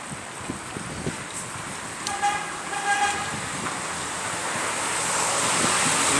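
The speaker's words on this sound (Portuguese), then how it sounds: "Não entendi porque que esse cara buzinou não." A car horn honks on a downtown city street during a bicycle ride, two short tones rising faintly above steady wind and traffic rush.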